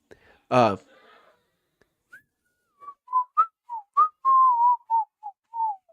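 A short breathy laugh, then a person whistles a simple tune in short separate notes and one longer held note, close and fairly quiet.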